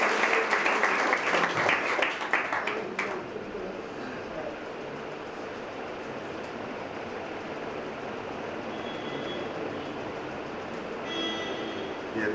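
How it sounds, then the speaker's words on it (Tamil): Audience applause welcoming a speaker at a centenary celebration for Mahavidwan Karukurichi Arunachalam, a dense burst of clapping for the first three seconds that fades into a steady low crowd murmur. "கரகோஷத்தோடு அண்ணனை பேச அழைக்கலாம்"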